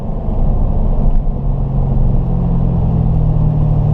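A race car engine drones loud and steady from inside the cockpit on a track, a dense rumble with a slight dip and shift in pitch as it drops down through the gears.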